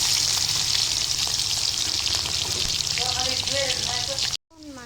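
Onions frying in a pan for chicken curry give a continuous bright sizzle with light stirring, then stop abruptly near the end before resuming more quietly.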